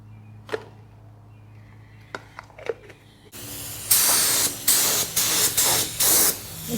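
A Harbor Freight paint gun sprays paint onto a 1950 Cadillac hearse: a few faint clicks, then loud, close hissing bursts that start and stop in a steady rhythm.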